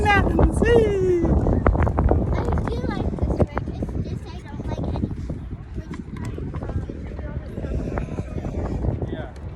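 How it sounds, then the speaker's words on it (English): Strong wind buffets a swaying sky bridge high in the Smoky Mountains at Gatlinburg, Tennessee. It makes a continuous loud rumble on the microphone, under excited voices talking and exclaiming throughout. "Oh my gosh, it's windy up here."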